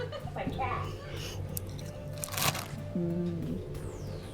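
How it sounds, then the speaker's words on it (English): Close crunching of a cookie being eaten in a quiet kitchen: a few crisp, brittle bites over a low background hum, short and irregular. "Can you hear me crunching?"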